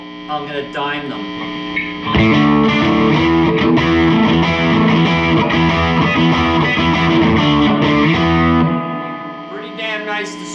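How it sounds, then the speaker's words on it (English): Electric guitar, a Jimmy Page Signature Telecaster, played through a heavily distorted Supro Black Magick tube amp turned all the way up with no boost, thick sustained chords ringing out loud, with a few lighter picked notes before and after. "Pretty damn nice distortion, no boost, no tube screamer engage. This is pure amp tone."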